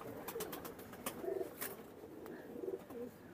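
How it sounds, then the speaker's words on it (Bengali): Purebred bloodline Teddy pigeons in a loft cooing softly, repeated low throaty coos among faint rustling and light clicks, fairly quiet and close. "এটা পিওর ব্লাড লাইনের 10 নম্বর টেডি কবুতর।"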